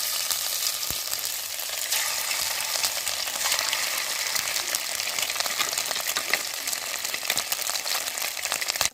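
Rohu fish pieces marinated in turmeric and salt fry in hot oil in a kadai, making a continuous dense crackling sizzle at close range.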